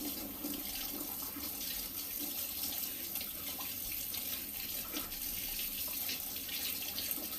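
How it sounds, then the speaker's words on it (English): Steady running tap water splashing over a removable Ninja Hot & Cold Brew coffee maker part being rinsed in a sink, a continuous close hiss with no talking. "Run under some water, maybe some soap, and it'll come clean."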